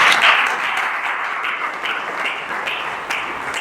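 A conference audience applauds as a data leadership CEO is introduced, giving even, sustained clapping at moderate loudness with no talk over it.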